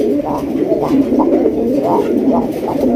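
Raj Golla pigeons, a male and a female, cooing close by in a steady run of deep, rolling coos that repeat about twice a second and fill the whole stretch.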